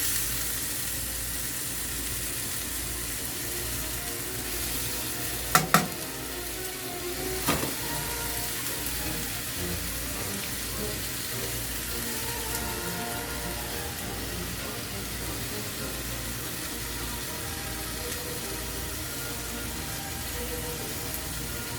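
Breakfast food frying in hot grease gives a steady, close sizzle throughout, broken by a couple of sharp pops or clinks early on.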